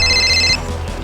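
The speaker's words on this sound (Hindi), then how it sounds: "अरे अरुण, इसका भी फोन अभी आना था।" A telephone rings with a bright, steady electronic trill for about half a second, then stops, leaving low background hum.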